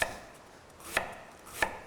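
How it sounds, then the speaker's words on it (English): Knife chopping fall vegetables on a cutting board while preparing a roasted vegetable risotto, three crisp separate chops spaced under a second apart in a quiet kitchen. "that was a really fancy chopping trick"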